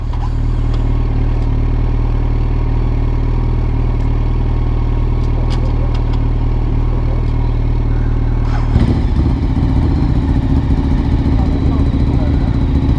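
A Ducati Monster motorcycle engine idling roughly and then stumbling as it stalls, a loud, close low rumble that changes to an uneven sputter partway through, with people talking over it.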